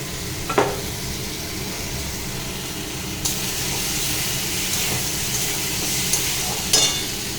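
Potatoes go into sizzling spiced oil with green chili for a Bengali katla fish curry, a steady broad frying hiss running throughout with a few brief clinks and stirring knocks.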